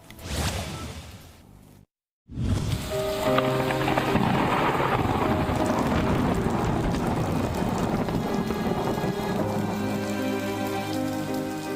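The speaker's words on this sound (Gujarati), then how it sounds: "પછી શરૂ થયેલો ધોધમાર વરસાદ" An unseasonal heavy downpour in Surat roars steadily after a brief cut to silence, a dense, constant hiss of rain drumming on surfaces.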